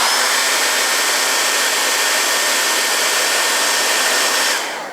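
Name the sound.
hair dryer drying sinamay fabric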